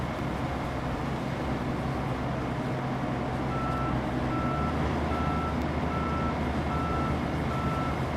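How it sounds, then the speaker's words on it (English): Truck in RoadCraft reversing, its backup alarm beeping in an even repeating rhythm at moderate distance over a constant rumbling engine and machinery noise. "So the first truck is trying to back up,"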